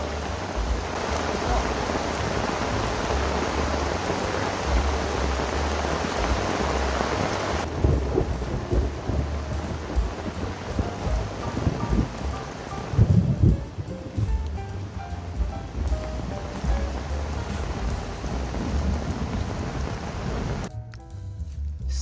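Heavy rain falls steadily outdoors near the water on a fishing trip for wild barramundi, with a loud rumble of thunder rolling through partway and the downpour continuing around it.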